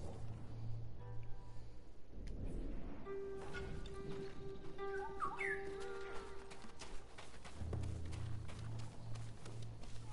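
Birds calling in the open-world samurai game Ghost of Tsushima: a few faint whistled chirps and a short trill over a low ambient background, fairly distant and quiet.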